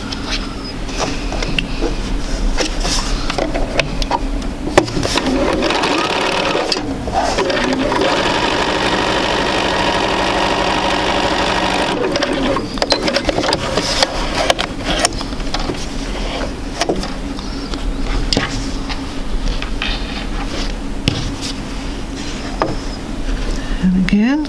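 A sewing machine stitches quilt pieces together in long steady runs of rapid mechanical chatter, with short pauses and a loud burst in the middle.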